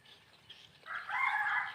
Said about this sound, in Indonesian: Siapa ayam itu?